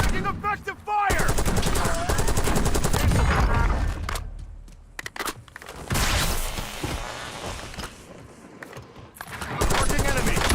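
Rapid automatic gunfire erupts in Call of Duty Warzone, with dense, loud bursts and short pauses between volleys, mixed with scattered shots and game voice callouts.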